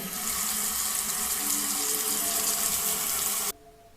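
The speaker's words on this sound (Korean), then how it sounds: "세면대로 가서 세수를 하는데" A bathroom sink tap pours water in a steady, close rushing stream while someone washes their face, then cuts off abruptly near the end, leaving quiet room tone.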